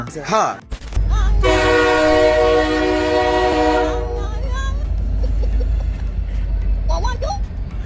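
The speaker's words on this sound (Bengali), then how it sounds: "ট্রেন আসলেই দাঁড়াতে চায় না" A train passes a station platform without stopping: a loud, close rumble of wheels and cars runs the whole time, with a long horn blast near the start, and people talk and shout over it.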